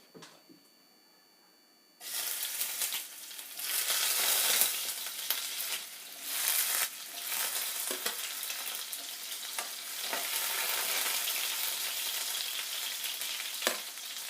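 Sliced bitter gourd dropped into hot oil in a home kitchen pan, setting off a loud, steady sizzle and crackle that continues throughout with occasional stirring scrapes, close up and without talking.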